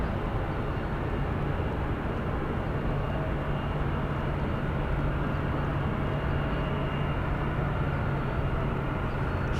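A plane about to land at San Francisco airport makes a continuous low roar with a faint steady hum beneath it, even in loudness throughout, with no voices.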